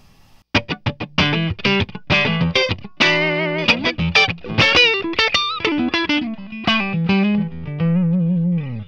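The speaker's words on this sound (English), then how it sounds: "Let's start out on the neck pickup." Electric guitar played through a Mojotone '67 Quiet Coil Strat neck pickup, with a string of clear, sustained notes and chords, some dirt and effects, played alone with no talking.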